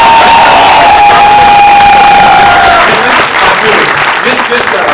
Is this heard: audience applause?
yes